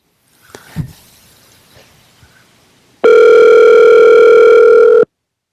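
A loud, steady telephone call tone sounds for about two seconds after some faint background noise and rustling, then stops abruptly.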